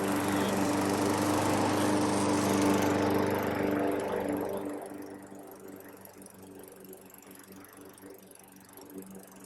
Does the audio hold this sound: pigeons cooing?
no